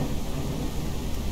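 Rain and thunder in Ranch Simulator form a brief, dense, steady roar of falling rain with a low rumbling underneath, fairly loud and without any talking.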